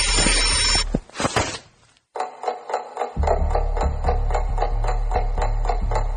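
A loud, continuous mechanical bell ringing rapidly, briefly broken by a pause, then resuming with a heavy low rumble beneath the clattering rings.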